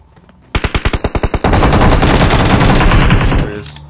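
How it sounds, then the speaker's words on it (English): Enemy gunfire in PUBG Mobile opens with about nine distinct, evenly spaced shots, then becomes a dense, sustained burst of rapid automatic fire, very loud and close, before cutting off abruptly near the end. "Enemies on southwest were shooting."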